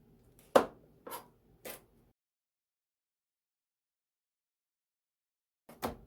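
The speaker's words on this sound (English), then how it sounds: "I need to chop up my bacon" Cooked bacon is chopped on a board with a knife, four sharp, close, distinct chops: three in quick succession, then a long pause before a final one.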